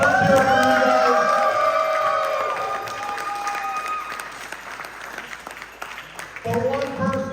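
A live audience at a farewell wrestling show claps and cheers for several seconds, loudest at the start and thinning out, with a voice and crowd noise mixed in near the end.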